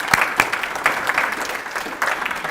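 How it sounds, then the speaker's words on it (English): At a golden alumni class reunion for homecoming, an audience gives a short round of applause, a crisp patter of clapping with a few distinct loud claps standing out. "So let's give them a big round of applause"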